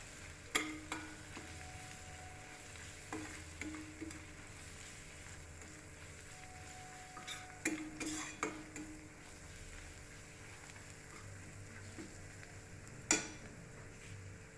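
Paneer bhurji stirred in a pan after chili powder and salt go in: a soft, steady sizzle with scattered close spoon scrapes and clinks against the pan, plus one sharper clink near the end.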